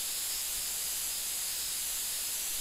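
A steady, even hiss of a sprayer laying grass in the video game The Sims 3 runs unbroken from start to finish. There is no talk over it.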